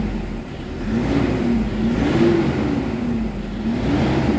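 A Toyota Hilux engine with a faulty air-conditioning idle actuator, revved up to around 1,500 RPM and held there, giving a steady, loud, wavering hum close by with no talk.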